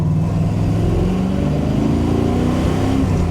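The 454 big-block V8 of a 1968 Camaro pulls hard under acceleration, giving a loud, continuous deep roar that rises in pitch from inside the car.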